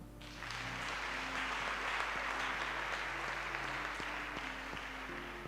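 A church congregation applauds during worship, a dense sustained clatter of many hands clapping together over a low background hum and faint musical tones.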